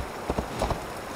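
A horse galloping and leaping a small gap in Assassin's Creed Valhalla, a quick run of hoofbeats heard close and fairly soft over a steady background hiss.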